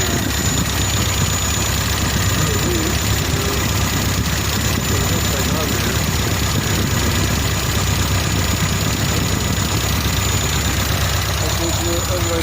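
A loud, rough 1987 Mazda B2000 pickup truck engine idles steadily throughout, a continuous low rumble with a rattling texture and no pauses.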